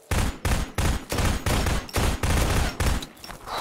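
Rapid bursts of automatic gunfire in the video game Zero Sievert, loud heavy rounds in quick clusters with short gaps, close and without talk.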